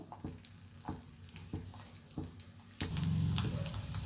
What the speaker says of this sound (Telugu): పెనం పెట్టి వేడెక్కిన తర్వాత ఆయిల్ వేసి మినపగుళ్ళు వేసాను